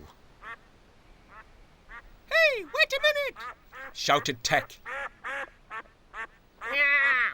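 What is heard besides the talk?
family of ducks quacking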